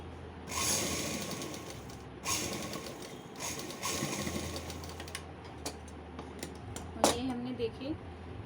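A sewing machine runs in close, continuous bursts while stitching a night suit, with a short break midway and faint clicking of the mechanism. Someone speaks over parts of it.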